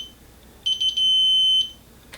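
An electronic torque driver gives a short run of quick beeps, then one steady, high-pitched tone of about a second once it reaches its 15 inch-pound torque limit while mounting Gideon Judge co-witness iron sights. It is close and clear, with no talk.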